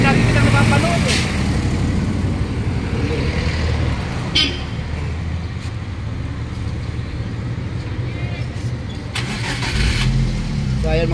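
A Foton Gratour 1.2 with a lit check-engine light starts and idles steadily nearby, with traffic around and people talking over it.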